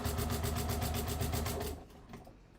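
Sewing machine stitching quilter's weight cotton fabric for a bag, a fast even rhythmic run of needle strokes for almost two seconds that stops abruptly, followed by a couple of faint clicks.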